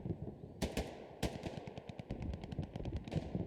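MG42 machine gun fire in the Hell Let Loose video game: a few heavy opening shots, then a fast, even stream of rapid rounds, fairly faint and distant.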